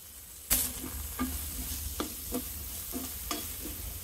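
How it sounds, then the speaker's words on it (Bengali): Chunks of raw green banana fry in oil in a pot, a close sizzle broken by about seven sharp scrapes and knocks of a spoon stirring against the pot. "একই হাঁড়িতে এবার আমি কাঁচকলা ভেজে নেব"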